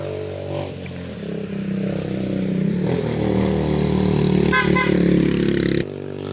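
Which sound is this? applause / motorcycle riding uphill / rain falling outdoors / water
motorcycle riding uphill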